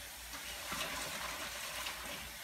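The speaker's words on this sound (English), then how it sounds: "soapy water in the sink." Warm soapy water runs from a tap into a sink in a steady, even gush, close and continuous throughout.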